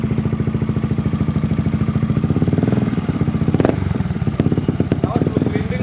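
A modified Yamaha XMAX scooter engine with an aftermarket exhaust idles with a throaty, pulsing exhaust, then is revved up in a few rising bursts, loud and close, with voices over it.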